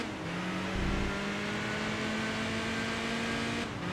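A race car engine in the driving game Enthusia Professional Racing hums at a steady, moderate volume with a constant droning tone, briefly swelling once early on, with no talking over it.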